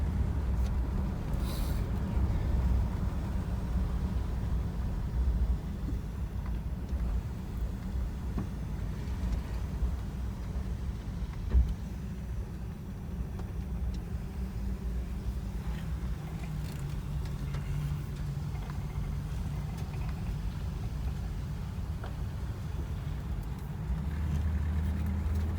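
A 1966 Chevrolet Caprice on the move, a steady low engine and road rumble from inside the car, fairly quiet and unbroken throughout.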